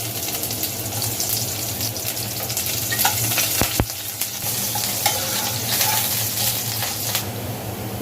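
Chopped onion frying in hot soybean oil for a jackfruit chicken curry, a steady close sizzle with a few sharp clatters of stirring, no talking.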